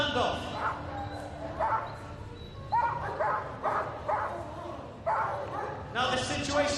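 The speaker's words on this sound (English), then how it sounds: "Air Dog Kubo, a service police dog from Royal Air Force Leiden, was released to conduct a standoff" A Royal Air Force police service dog gives several sharp barks and yips in repeated bursts during a standoff at an RAF display, fairly near and loud over outdoor crowd noise and a commentator's voice.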